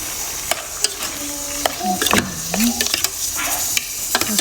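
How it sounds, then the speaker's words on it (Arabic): Tomatoes go into a hot pan for a meat couscous, with a steady sizzle and frying hiss under scraping stirs and clinks of a utensil against the pan. "درك نزيد طماطم"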